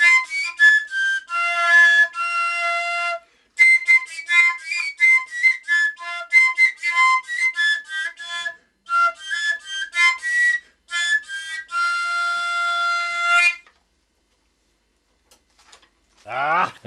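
A Slovak folk whistle (píska) is played in bright, piping melodic phrases with short pauses for about thirteen seconds, then it stops and a brief voice-like sound follows near the end.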